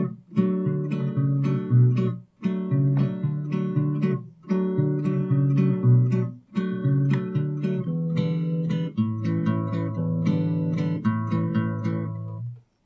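Fingerstyle acoustic guitar plays the intro of a song from the film Barfi, steady plucked notes and chords in repeating phrases with brief pauses between them, close and alone.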